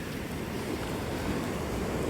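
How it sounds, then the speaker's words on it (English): Waves break on a beach in a steady, broad roar of surf that fills the whole clip, with a continuous wash of foam and some wind rumble and no pauses. "back there, we have the waves breaking"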